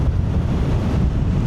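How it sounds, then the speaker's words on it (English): Loud, steady wind buffeting on the helmet while riding a Yamaha MT07 motorcycle, a continuous low roar filling the whole moment with no break. "No, it is windy."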